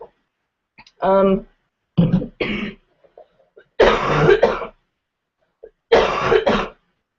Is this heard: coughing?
yes